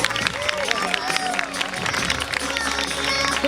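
An outdoor crowd at a water-ski team show gives a loud, dense round of applause and cheers, mixed with voices and general crowd noise.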